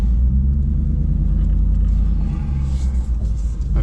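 Vehicle driving through a dry creek bed, a loud close low rumble of engine and tyres over rough ground, steady throughout.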